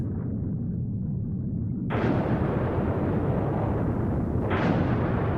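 A B-2 bomber's bombs explode on a target array in two heavy, rumbling blasts, the second following about two and a half seconds after the first, over a constant low roar with no voices.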